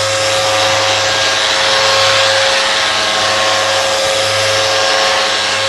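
A power sander runs continuously with no vacuum attached, giving a loud, steady high-pitched whine with a low hum beneath that barely changes throughout.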